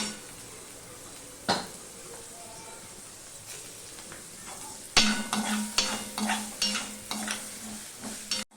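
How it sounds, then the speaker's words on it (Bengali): Potato and carrot pieces fry with salt in a pan, a quiet sizzle broken by spatula knocks, then a run of rhythmic scraping stirs in the second half. "আর আলুটা ভেজে নেব একটু নুন দিয়েই ভাজবি"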